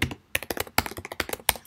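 Rapid typing on a computer keyboard, a quick irregular run of crisp close key clicks with brief pauses between bursts, alone without speech.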